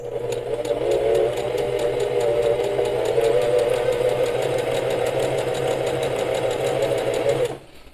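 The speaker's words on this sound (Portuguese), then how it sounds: "E agora eu vou costurar." Sewing machine stitching a souplast cover: a steady, loud, fast mechanical whir and rhythmic needle chatter running continuously for over seven seconds, then stopping abruptly.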